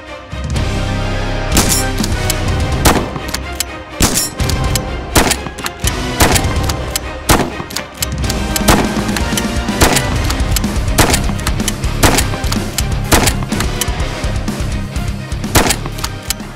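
Shotgun blasts boom out in a VR horror game, sharp loud reports fired in irregular bursts over a dense, droning game soundtrack, with no one speaking.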